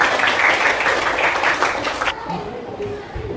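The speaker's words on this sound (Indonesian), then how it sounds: "Kita tepuk tangan." A classroom of children claps together in a dense, steady burst of applause that stops abruptly partway through, followed by quieter room noise and faint voices.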